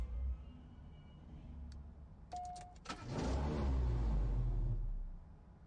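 A BMW M8 Coupe racing in the mobile game CSR2: brief electronic clicks, then the engine bursts into a loud, rising rev that holds for a couple of seconds before fading, alone without talk.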